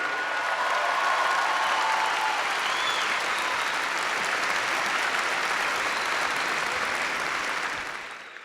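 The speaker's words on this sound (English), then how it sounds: "Join me in applauding His Highness Sheikh Mohammed bin Rashid Al M" Sustained applause from a large crowd at a university commencement ceremony, a dense wash of clapping that holds steady for several seconds before tapering off.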